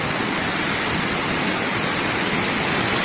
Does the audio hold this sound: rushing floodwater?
yes